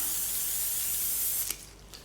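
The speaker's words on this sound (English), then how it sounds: "hairspray." Hairspray hisses from an aerosol can onto a model railway tree in one continuous close spray that ends with a couple of faint clicks.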